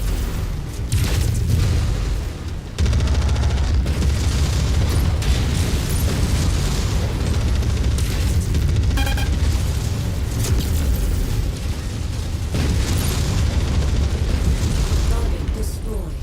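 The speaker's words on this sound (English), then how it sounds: "Get out the artillery." In MechWarrior 5: Mercenaries, artillery strikes rumble as a dense, loud, continuous barrage of booms and blasts amid battlefield mech noise, with radio voices and a player talking over the explosions.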